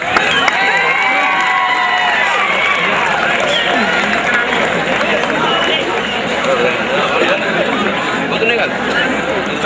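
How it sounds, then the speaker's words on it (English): A crowd welcomes a guest at a student institution's event with loud cheering, shouting and chatter, plus some applause underneath, a dense, continuous roar held throughout. "Welcome him with a big round of applause"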